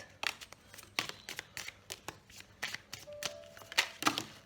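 Tarot cards are shuffled by hand, a close, soft series of riffling flicks and slaps that comes in irregular bursts, with some cards spilling loose near the end.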